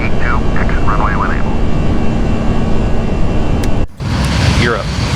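Airliner climbing out after takeoff from Taoyuan on a flight to Macau, a steady loud broadband engine roar heard from inside the cabin, briefly dropping out near the end, with cockpit radio voices talking over it.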